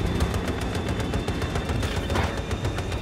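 Sustained, steady rattle of incoming gunfire in a tank video game, loud and continuous with dense repeating shots filling the whole short stretch.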